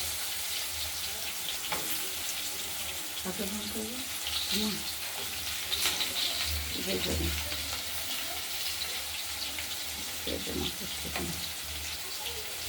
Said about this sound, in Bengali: আলুটা ভাজা হোক তারপর দেখি আলুটা ভাজা হোক